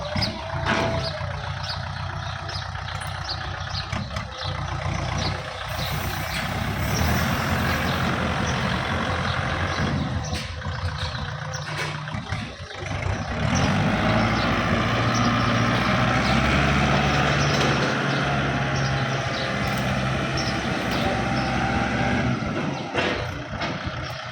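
A used 47-horsepower tractor engine runs steadily and loudly close by, its low rumble continuing the whole time with some shifts in strain and revving.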